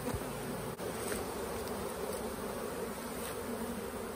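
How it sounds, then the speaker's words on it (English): Honey bees in a strong October hive opened in South Alabama, a dense, steady buzzing swarm heard up close and continuous, with no talk. "And that's what an October hive, a good strong October hive looks like here in Alabama."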